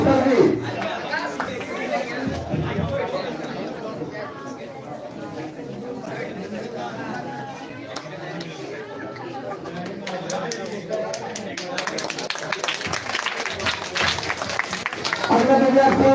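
An audience at a coaching centre prize ceremony claps for a student, scattered applause that swells toward the end amid crowd chatter and a presenter's voice.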